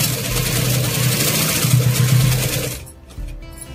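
An electric sewing machine stitches a baby frock in a fast, continuous whirring run of needle strokes, loud and close, then stops abruptly with a brief mechanical clunk near the end; no talking.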